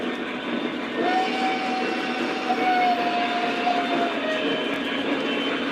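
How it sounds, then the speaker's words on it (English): A Lionel model ore train runs along its track with a steady, close rolling rumble and faint clatter that continues for the whole stretch, with no talking over it. "we need to get this ore train out of my way."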